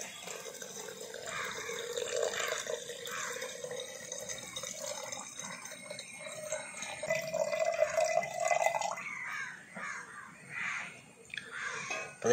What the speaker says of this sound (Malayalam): ഇനി ഇതിലേക്ക് നമ്മൾ ഒരു ഏകദേശം 1/2 ലിറ്ററോളം വെള്ളം ഒഴിച്ചു കൊടുക്കണം